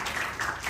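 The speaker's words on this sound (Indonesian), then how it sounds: "Beri tepuk tangan yang meriah dalam kita." A church congregation applauds during a sermon at GBI LTC Glodok, a brief, dense burst of clapping.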